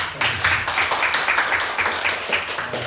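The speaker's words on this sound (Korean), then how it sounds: "박수로 기도하겠습니다." A church congregation claps together during Sunday worship, with many hands striking in a steady rhythmic beat, close and continuous for about three seconds.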